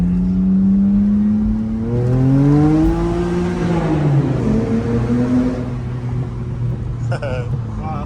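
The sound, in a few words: BMW E92 with resonator and secondary cat delete accelerating in first gear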